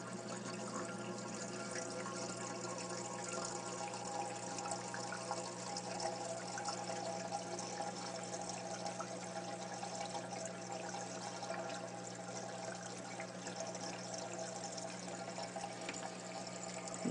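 Water flows steadily through an aquarium U-tube overflow box into the inner box, a continuous close trickling rush with no pauses and no voices.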